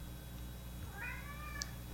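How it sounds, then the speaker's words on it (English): A cat gives a single drawn-out meow with a rising, wavering pitch, fairly close, over a steady low hum of background noise. "I think my cat wants to go out again."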